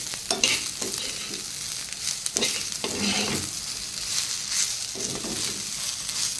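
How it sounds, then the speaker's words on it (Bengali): Ivy gourd coated in gram flour crackles in hot oil, with repeated spatula scrapes and clatters as it is stirred, close and continuous with no talk. "কুঁদরি ভাজা হয়ে গেছে বেসন দিয়ে"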